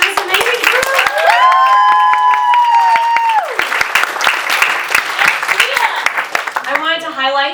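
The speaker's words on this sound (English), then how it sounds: "Let's give another round of applause for this amazing group" Audience at a founder showcase event applauding loudly, sustained dense clapping with a few cheers mixed in, tapering off as a voice begins speaking at the end.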